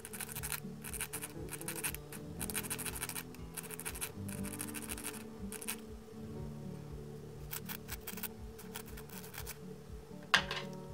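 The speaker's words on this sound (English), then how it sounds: "After cutting, smooth the edges with a file or sandpaper." A metal watch pin's cut edges are smoothed with a file or sandpaper in quick repeated rasping strokes, close and fairly quiet, set in bursts with short pauses between them.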